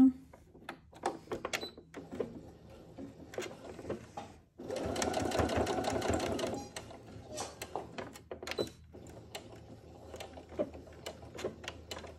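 A sewing machine topstitches a fabric bag in one sustained, close burst of rapid stitching lasting about two seconds, framed by someone speaking French and by small handling clicks and taps.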